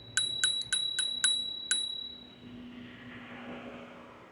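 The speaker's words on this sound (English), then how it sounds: "I got a bell." A bell on an electric scooter rings in six quick bright dings, each with a short ringing decay, followed by the low rumble of the ride with no voices.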